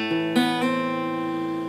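An acoustic guitar plays a short lick for a song, a few plucked notes with a hammer-on ringing out clearly and alone.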